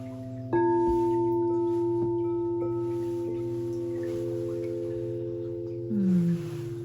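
Frequency toning: steady, pure electronic tones with stacked harmonics switch on abruptly and hold for several seconds, and a softer gliding hum-like tone slides downward near the end.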